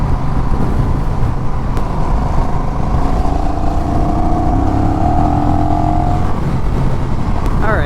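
Honda Rebel 1100 DCT motorcycle accelerating through the gears, a steady loud engine drone with rising pitch and wind rush throughout, riding behind other traffic.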